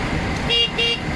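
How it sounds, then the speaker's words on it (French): A Citroën Méhari's horn gives two short close honks in quick succession over a background of engine and street noise. "Le klaxon."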